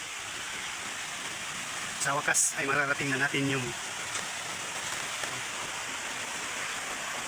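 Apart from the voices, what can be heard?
waterfall pouring water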